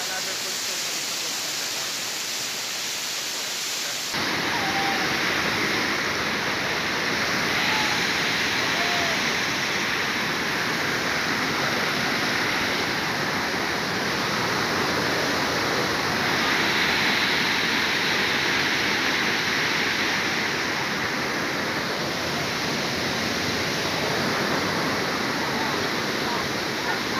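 Daranak Falls rushes with a constant, loud roar of falling water that rises further a few seconds in and holds steady throughout, with people's voices faint beneath the roar.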